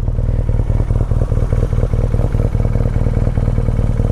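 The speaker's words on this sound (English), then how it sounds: "And the exhaust sounds is very, very pleasing to the ear." A motorcycle engine runs loud and close, its exhaust putting out a steady, throbbing rumble with rapid pulsing firing beats and no voices.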